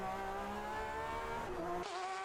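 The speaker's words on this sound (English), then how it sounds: "listening to that blaring flat 6 engine" Blaring flat-six race car engine in a sim racing game, a sustained loud harmonic roar with shifting pitch and a sharp gear change near the end, heard close with no talking.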